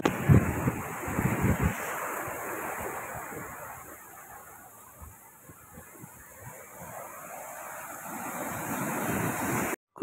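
Ocean surf washing onto Cola Beach in Goa, with steady wind buffeting the microphone; broad continuous wash that swells loudest near the start and end, no talking.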